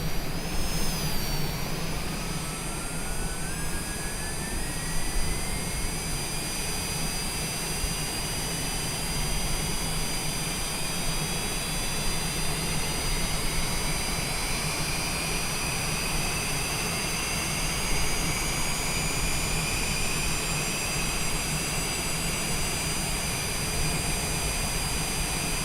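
A Citation Longitude jet engine spools up in a flight simulator game, a loud continuous roar with a high whine rising steadily in pitch through the start sequence, heard alone without talk.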